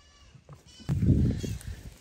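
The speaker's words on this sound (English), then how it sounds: "I hear a sweet little goat." A goat on a farm gives a close, raspy bleat that rises out of quiet background noise and trails off over about a second.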